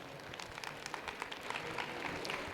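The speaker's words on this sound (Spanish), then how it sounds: "Recibamos con un fuerte aplauso a la licenciada Clara Vázquez" Audience applause at an education workshop welcoming a speaker to the stage: steady, dense clapping from a roomful of people, moderately loud and continuous throughout, with no voices over it.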